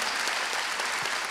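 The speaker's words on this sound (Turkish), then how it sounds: "Onun için ayrıca bir alkış istiyorum öğrencilerime" Graduation ceremony crowd at Haydarpaşa High School applauding the students, a thick, continuous burst of many hands clapping at close range with no break.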